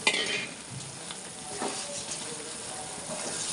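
Bread pieces and dry fruits frying in ghee in a pan for bread halwa, a steady close sizzle with stirring scrapes throughout.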